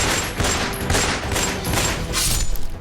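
A rapid burst of more than 16 gunshots fired at a petrol pump in Delhi's Gokulpuri, loud, dense and overlapping cracks running without pause.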